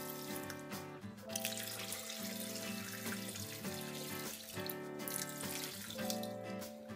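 Filtered water, about 500 grams, pours steadily into a blender jar in a home kitchen, a continuous rushing splash running the whole time beneath tonal background music.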